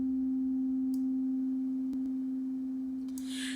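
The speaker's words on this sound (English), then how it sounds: "So I'm going to go back to the sine wave" A steady synthesizer oscillator sine tone holds one clean pitch throughout, with a few faint clicks and a brief hiss near the end, and no talking.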